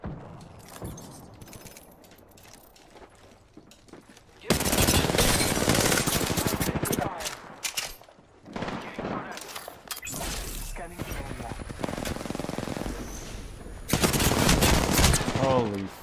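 Gunfire in the video game Apex Legends: dense, sustained automatic bursts and rattling shots come in loud waves over a busy game soundscape, with a player talking underneath.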